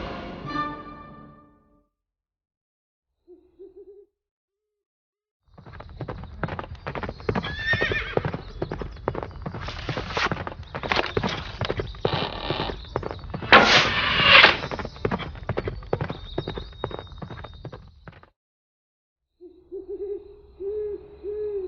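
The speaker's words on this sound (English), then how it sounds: "What she did like was riding full speed through the countryside on her horse Angus," A horse galloping at full speed through open countryside, rapid rhythmic hoofbeats building loud and close for about twelve seconds, framed by brief quiet gaps, a whinny and an owl-like hoot.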